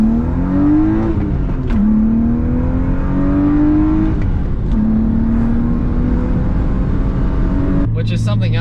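A BMW E36 M3 with the single Vanos engine accelerates hard, its revving note climbing through several gear changes, loud and close throughout.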